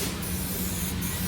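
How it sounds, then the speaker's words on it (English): A 3M 90 adhesive spray can sprays in one continuous, close, loud hiss lasting just over a second, used while replacing the cloth on a Keene 151S. "It's a 3M90 spray."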